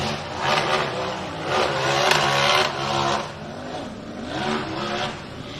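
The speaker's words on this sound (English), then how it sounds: "That buggy is screaming." A UTV racing buggy engine screams at high revs at a race starting gate, loud and sustained, with pitch rising and falling as the throttle surges and eases.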